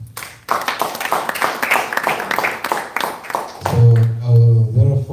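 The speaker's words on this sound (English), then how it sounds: "Please clap hands for yourselves." An audience at a youth community event in a café claps for a few seconds in a burst of scattered applause, then a voice starts speaking over the fading clapping.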